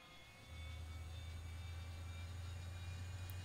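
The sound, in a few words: Arado 234 Blitz jet engine starting up, flight sim video game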